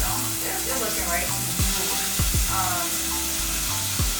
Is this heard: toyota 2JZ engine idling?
no